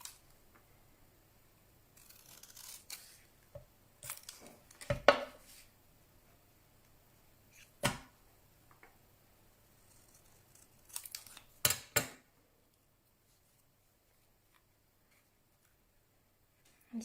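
Scissors trim paper for a pop-up mini album, heard as scattered quiet snips and crisp clicks separated by near silence.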